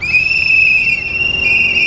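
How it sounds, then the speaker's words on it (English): Protesters at a Homan Square demonstration blow whistles in one loud, shrill, unbroken tone that runs close and steady throughout. "Let's get some whistle blowing on."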